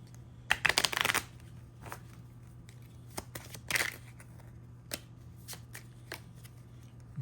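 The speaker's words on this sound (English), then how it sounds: "So I got to shuffle." A deck of cards is shuffled during a Kamigami Battles: Rise of the Old Ones tabletop game, giving a loud riffling burst and then a second shorter riffle, with quieter card taps and handling noises between them under a low steady hum.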